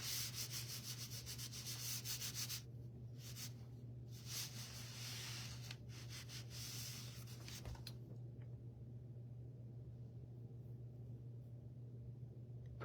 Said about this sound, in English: I'm gonna flip this, and I'm just gonna kind of rub them down